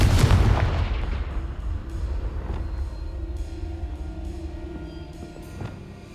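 A Confringo blasting spell explodes in Hogwarts Legacy with a loud, close boom, and a long rumbling decay fades over several seconds, followed by a fainter thud near the end.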